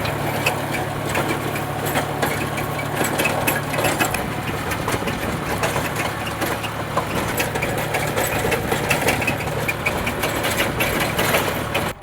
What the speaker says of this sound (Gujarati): ટ્રેક્ટર હાંકવાનું શરૂ કરી દીધું છે